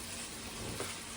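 Potatoes frying in a pan, a soft, steady sizzle heard up close for about a second with no voices.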